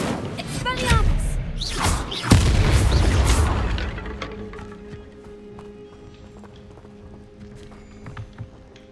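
A fiery explosion spell cast in Hogwarts Legacy on hard mode, a heavy booming blast with rumbling thuds that swells and then fades into quieter game ambience, with a voice audible early on.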